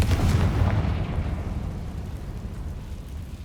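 Fire spell explosion in Hogwarts Legacy, a heavy booming burst that rolls into a long rumbling tail fading over a few seconds, loud with no talk.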